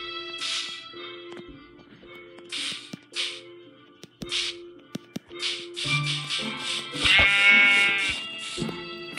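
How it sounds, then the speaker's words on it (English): Sheep bleating in the video game Minecraft: Pocket Edition, a string of separate bleats with short gaps between them, mixed with clicks and game effects that grow busier toward the end. "Get back here, sheep."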